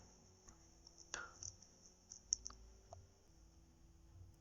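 A handful of sparse computer mouse clicks while working in the Visual Studio Code editor, small sharp ticks spaced irregularly over a quiet background hum, close but soft.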